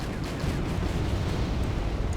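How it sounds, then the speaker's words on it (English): Cannon fire in the real-time strategy video game Wargame: European Escalation, heard as a dense, continuous low rumble of overlapping shots and blasts with steady loudness and no clear gaps between them. "We've got 8 cannons firing against the enemy."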